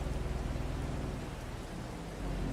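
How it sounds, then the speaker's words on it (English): Steady rain falls in Farming Simulator 22 as a continuous, even rushing hiss with a low rumble underneath. No one speaks over it. "I think we'll wait out the rain before we do anything else."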